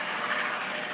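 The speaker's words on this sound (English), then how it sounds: "Ah, no, it's an helicopter." Helicopter passing overhead, a broad steady rotor and engine roar filling the background, fairly loud and constant across the moment with no speech.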